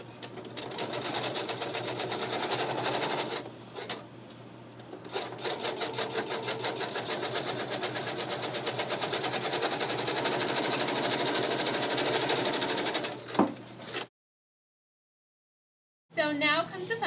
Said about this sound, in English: But I'm going to take mine to the machine and sew it.